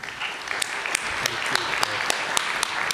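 An audience applauds steadily, a dense wash of many hands clapping with sharper individual claps standing out throughout.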